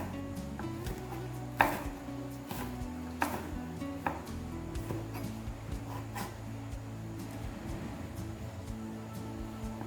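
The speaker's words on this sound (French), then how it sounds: "Couper les piments verts." A knife chops green chili peppers on a board in a home kitchen, a few sharp isolated knocks standing out over a steady low hum and faint background clatter, no voices.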